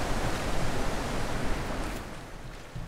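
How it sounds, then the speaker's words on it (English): Waterfall in the video game The Witness, a steady broadband rushing roar of falling water that fills the short clip alone, easing slightly toward the end. "Is this a different waterfall?"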